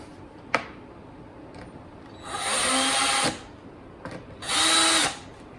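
A power drill drives screws into a vintage trailer's cabinet door, giving two sustained whirring bursts of about a second each, close and fairly loud, separated by quiet pauses with a couple of small knocks.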